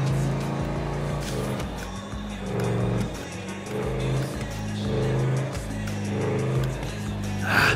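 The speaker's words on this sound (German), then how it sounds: "So ein V8 hat doch was." A V8 car engine in Grand Theft Auto 5 revs and drones in repeated loud surges, rising and easing as the car drives, with tire noise and a voice talking faintly underneath.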